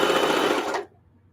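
A sewing machine stitches fabric scraps together for a modern quilt, a fast, loud, even whirr that runs close up and then stops abruptly, leaving a quiet room.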